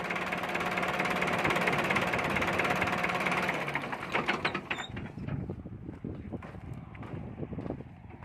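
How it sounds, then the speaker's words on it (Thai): An engine being switched off, its steady idling roar running loud for about four seconds before dropping away, followed by scattered clicks and rattles as it winds down. "ดับเครื่องให้ดูนะครับว่า"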